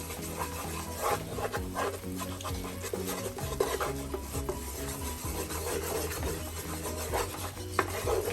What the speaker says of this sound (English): I'm gonna add a cup of flour into the already heated oil. I have the oil on low. You're gonna need to constantly stir.